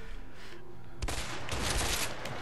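Gunfire in the video game A Way Out, a quiet stretch followed by a sudden dense burst of rapid shots that continues to the end, loud and close, with no speech.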